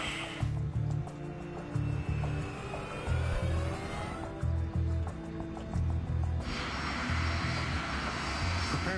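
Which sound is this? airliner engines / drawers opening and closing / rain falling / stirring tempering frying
airliner engines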